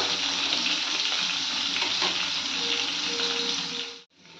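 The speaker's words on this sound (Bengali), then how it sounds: "অল্প একটু লাল লাল করে ভেজে নেব, বেশি ভাজবো না" Paneer pieces fry lightly in a pan, a close, steady crackling sizzle that holds evenly, then cuts off sharply near the end before resuming faintly.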